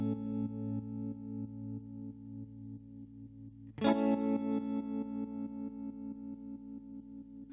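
A guitar chord pulses through a MOOER tremolo pedal set to a triplet rhythm, with quick, even volume throbs in threes, then a fresh strum midway that carries on pulsing and slowly fading, close and alone.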